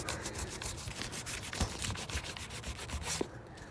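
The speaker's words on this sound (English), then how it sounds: "So you can take your gloves, just hold it, mess around with your buttons, that kind of thing." Gloved hands rubbing paint off a painted gun during a distressed two-tone desert paint job: soft, repeated scratchy rubbing strokes in close, irregular bursts with no talk.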